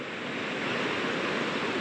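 Overflowing water rushes in a loud, steady broadband roar, close and continuous with no pauses or voices.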